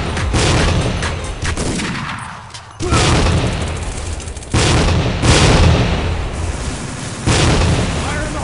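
Grenade explosions in Tactical Ops: Assault on Terror boom loudly in repeated heavy blasts amid continuous gunfire and combat noise, several sharp onsets across the stretch.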